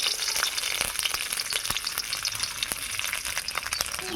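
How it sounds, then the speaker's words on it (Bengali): Garlic fries in hot mustard oil with a dense, continuous crackling sizzle, close and even, sprinkled with small pops and faint stirring taps throughout. "এবারে ভেজে নেব রসুন"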